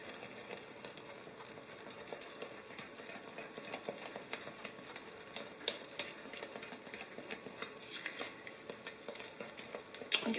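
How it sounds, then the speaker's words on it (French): Beer soap paste is stirred in a slow cooker, giving a faint, continuous crackling and soft scraping patter that runs steadily throughout, quiet and close. "Je vais le brasser un peu."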